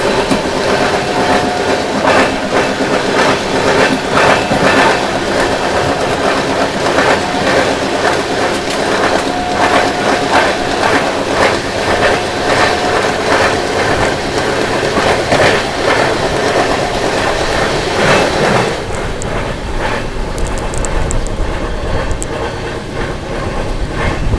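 Loud, steady rumble and clickety-clack of the Gitanjali Express passenger train overtaking the Maharashtra Express on Indian rails, heard close and continuous from on board, with the roar thinning abruptly near the end.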